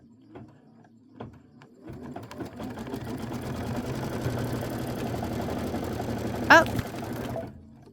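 A sewing machine starts after a few faint clicks and runs a steady, close whirring stitch through a quilt block piece, then stops abruptly after a sharp clack, with a brief spoken exclamation.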